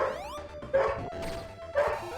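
Dogs bark indoors in two short, fairly loud bursts, spaced about a second apart, over a steady electronic tone from a Sonic Jam game playing in the room.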